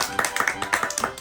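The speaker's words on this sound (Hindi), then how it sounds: "ओ देखो तालियां" A baby claps its hands several times in quick, uneven bursts at home, the small claps close and fairly soft, with an adult voice talking over them.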